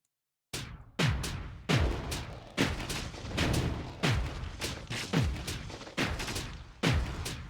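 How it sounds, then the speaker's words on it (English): Ion cannons fire in the space combat game Starsector as a steady series of about eleven sharp booming blasts, roughly one every 0.7 seconds, each with a short decaying tail, loud and alone. "Switch to the ion cannons and disable some of the weapons on the Enforcer."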